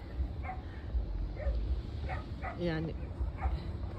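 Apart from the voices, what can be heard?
dog whimpering and barking, wanting to play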